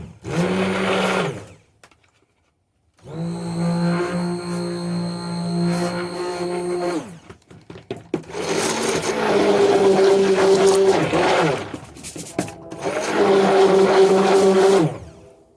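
A loud, wobbly electric stick blender mixing soap batter whines in several long bursts, pausing briefly between runs, its motor pitch steady with slight wobble.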